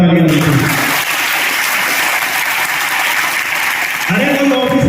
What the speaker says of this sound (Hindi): तो ऐसे शख्सियत के लिए जोरदार तालियां दीजिए